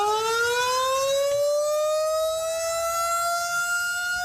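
An air raid siren wails loudly at the Dawsonville Pool Hall in rural Georgia. Its rising, sustained tone dominates the whole stretch with no voices over it.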